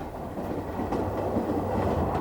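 A train travels along rails on its way to the outskirts of Paris, giving a steady, full rumble with faint rhythmic clicking of the wheels throughout.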